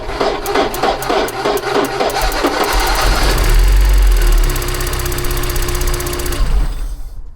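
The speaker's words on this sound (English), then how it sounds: "we're going to turn the car over now with the new fuel lines installed" A Porsche 944 engine with new fuel lines cranks in a rhythmic series of loud turns, then fires and settles into a steady, close idle that ends abruptly.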